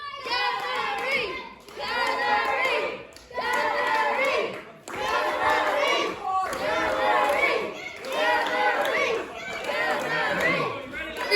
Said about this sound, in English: I started a chant, and the crowd all joined in.